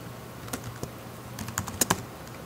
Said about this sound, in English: I'm probably the clumsiest typer on YouTube.